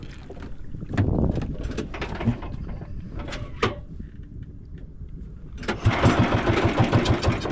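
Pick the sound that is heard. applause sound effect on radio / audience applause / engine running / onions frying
engine running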